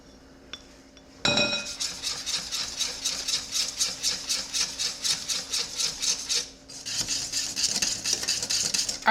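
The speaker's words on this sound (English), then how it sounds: "So now I'm gonna stir in the melted chocolate." Melted chocolate being stirred into a French silk pie filling, a rapid rhythmic scraping of a utensil against a bowl, close and steady, pausing briefly before resuming.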